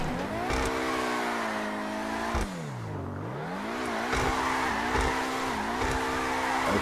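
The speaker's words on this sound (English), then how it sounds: "Doing donuts and burnouts in the parking lot" A car in GTA 5 does donuts and burnouts in a parking lot. The tires squeal in long, loud sustained wails, the engine revs and dips, and the squeal swells again in repeated cycles.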